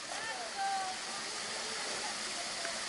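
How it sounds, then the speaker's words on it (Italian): A waterfall in the Rioscuro falls of the Monti Lucretili near Rome gives off a faint, continuous rushing wash of water, with a few thin whistle-like tones drifting over it early on. "Cascata della doccia, bellissima"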